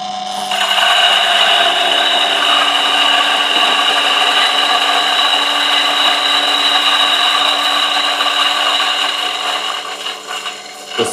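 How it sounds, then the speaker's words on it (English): A coffee grinder runs at grind setting 75 while grinding beans, a loud, steady motorized whir held for about ten seconds before winding down, with no talk. "So let's turn on the grinder."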